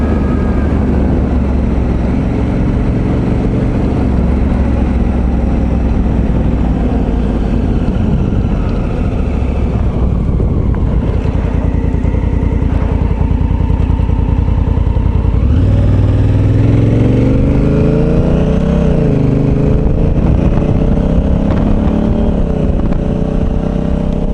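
A Honda Africa Twin motorcycle engine drones loudly and continuously while riding, with shifting pitch as it changes speed, under heavy wind rumble.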